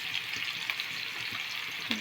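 Fish fries in a pan with a steady, soft sizzling hiss throughout, broken by a few faint pops and one small clink near the end.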